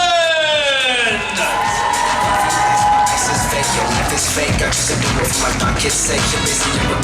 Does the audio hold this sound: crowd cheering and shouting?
yes